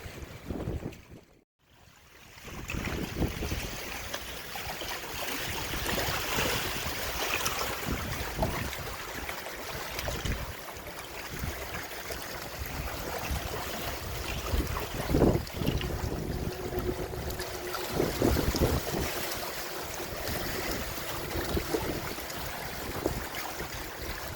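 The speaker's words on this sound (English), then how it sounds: "I'm going to get out of this wind" Steady wind gusting near the site of the former Carlton Bridge in Bath, Maine, in January; loud, continuous buffeting roar against the microphone with rushing swells and no speech.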